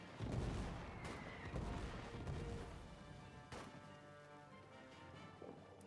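Explosions and gunfire in the trench-warfare game All Quiet in the Trenches: a rumbling barrage of booms and sharp cracks, loud at first and then thinning into scattered bangs and a lingering low rumble.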